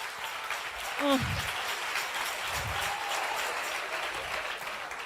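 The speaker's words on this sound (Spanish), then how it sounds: "Dele fuerte el aplauso." A church congregation applauds steadily for several seconds, a dense wash of clapping heard from the room, while a voice briefly speaks and calls out over it near the start.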